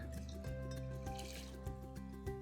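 Cold water poured over apples for pickling, making a close, continuous liquid trickle with small drips and squishy gurgles, with no talking.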